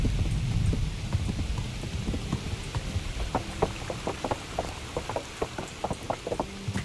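Horse hooves clop in a steady rhythm while riding in the medieval video game Kingdom Come: Deliverance, the hoofbeats growing sharper over a constant rain-like hiss of ambient noise.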